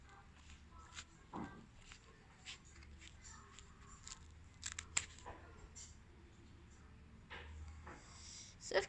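Scissors snipping yarn while making pompoms, scattered short crisp cuts and clicks at irregular intervals, quiet and close, with soft handling noise between snips.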